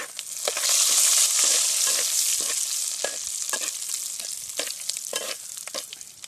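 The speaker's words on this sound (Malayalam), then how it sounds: "ഇതൊന്ന് മൂക്കട്ടെ" Masala frying in oil in a pan for a fish curry, a strong steady sizzle with rhythmic scraping strokes of a spoon stirring close by, no voices.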